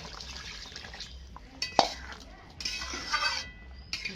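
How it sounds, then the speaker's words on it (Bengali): Water poured into a cooking pot while making an egg curry with lentils and potatoes, a gurgling splash with a clink of the pot and some light dripping, fairly quiet. "এবার আমি একটু জল দিয়ে দেবো।"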